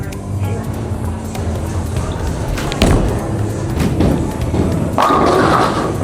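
A bowling ball rolls down the lane with a steady rumble, then strikes the pins in a loud clattering crash near the end; no one speaks.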